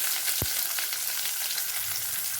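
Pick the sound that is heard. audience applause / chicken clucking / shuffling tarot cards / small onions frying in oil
small onions frying in oil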